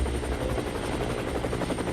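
A helicopter swoops in for a rescue in the Korean zombie film Peninsula, its loud, steady rotor roar thick and close with a fast pulsing chop, and no voices.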